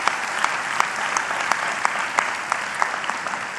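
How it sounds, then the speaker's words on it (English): Sustained round of applause from a debate audience at Longwood University in Farmville, a dense steady clatter of many hands filling the hall with a few sharper claps standing out. "Give yourself a round of applause."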